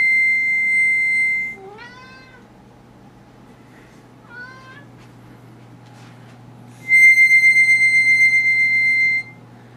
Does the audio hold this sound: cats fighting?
yes